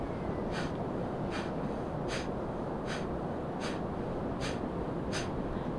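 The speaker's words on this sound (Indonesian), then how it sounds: "Jadi Anda hanya akan mendengar suara pada saat Anda membuang nafas." Forceful, rhythmic nasal exhalations of Kapalbhati pranayama breathing come in seven evenly spaced short bursts, about one every 0.8 seconds, over a steady background hiss.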